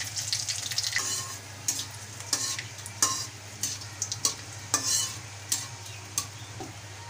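Black cumin and dried red chillies sizzle in hot mustard oil in a wok, a steady crackling hiss broken by sharp scrapes and clinks of stirring, close up with no talking.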